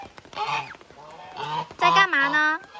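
A female Muscovy duck calls on a rainy day beside a tire she is nesting in. Honking, nasal calls come in several close, loud bursts with short gaps, the last ones strongest.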